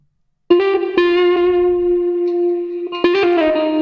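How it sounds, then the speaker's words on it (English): Lo-fi guitar drenched in heavy reverb and delay with stereo widening, a sustained chord ringing out after sharp plucked attacks, then restruck near the end, close and alone. "Heavy on the reverb here, a little bit of delay, a little bit of just the default stereo widening"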